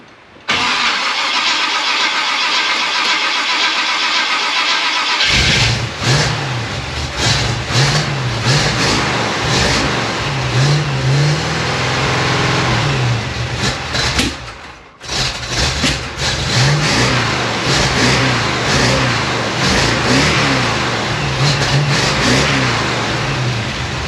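A 1956 Chevy gasser wagon engine that hasn't run in a while, fitted with custom pipes, cranks for a few seconds, catches, and settles into a rough idle, then revs up and down repeatedly, loud and close.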